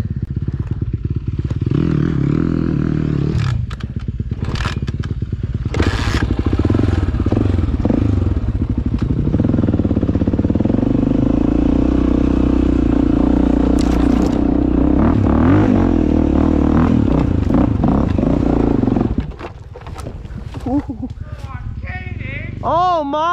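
A dirt bike engine drones steadily while riding on a trail, loud and close with clattering bumps, then cuts off near the end as a voice speaks.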